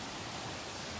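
Singsing Kelesih waterfall in Bali roars as a dense, steady wash of falling water, loud and close with no break.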